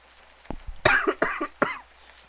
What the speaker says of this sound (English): doesn't help that I still have this stupid cough